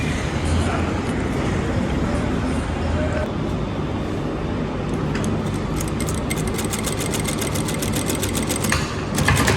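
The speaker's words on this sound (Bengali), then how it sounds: "আমি একটু সেলাই করে দেখাচ্ছি, খেয়াল করেন।" A plain SNLS single-needle sewing machine stitches fabric held under the presser foot, producing a loud, steady mechanical drone with rapid rattling toward the end, and a voice speaks over it.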